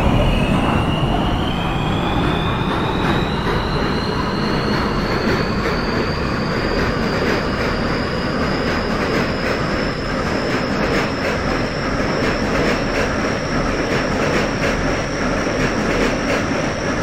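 R160A subway train on the R line in the OpenBVE simulator, a loud continuous rumble of running wheels on track with a rising electric motor whine throughout, no voices.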